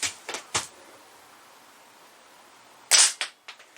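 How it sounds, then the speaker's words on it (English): A Diana Trailscout .177 air rifle fires pellets in three sharp, close cracks early on, then a short pause before another loud shot with a quick follow-up click; no talking. "We're going to put 3 shots of each pellet through."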